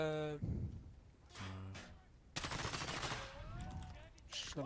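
Gunfire in the video game Modern Warfare comes as short bursts of rapid automatic shots, the longest near the middle, between quieter stretches with voices and other game sounds.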